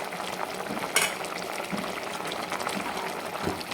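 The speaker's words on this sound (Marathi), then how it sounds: "आपण आता याच्यामध्ये आलं लसणाचं पेस्ट टाकून घेणार आहे" Mutton cooks in a pan with ginger-garlic paste just added, giving a continuous soft sizzle and bubbling with one brief sharp crackle near the start, heard close and alone.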